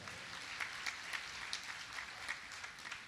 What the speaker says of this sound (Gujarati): એક વખત આપણે સ્વામીને અને એના સંતોને આપણે તાળીઓથી વધાવો